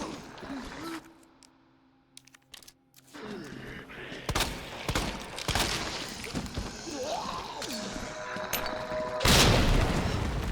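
A grenade going off in a Resident Evil 2 Remake mod, a loud sudden blast near the end that follows scattered gunshots and rumbling game sounds, with a voice talking in between.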